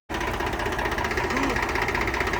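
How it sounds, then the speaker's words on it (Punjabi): A Swaraj 855 tractor engine runs steadily and close, a dense continuous mechanical clatter with a fast rhythmic knock that holds even and loud throughout with no talk over it. "ਟਰੈਕਟਰ ਦੀ ਆਵਾਜ਼ ਬਾਈ ਸੁਣੋ ਕਿਆ ਘੈਂਟ ਹੈ ਇਹ"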